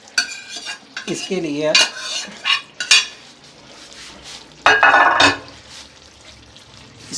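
Chicken, potatoes and pre-fried cauliflower being stirred together in a pan for gobhi chicken: bursts of scraping and clinking from a spoon against metal, close and irregular, with someone briefly speaking between strokes.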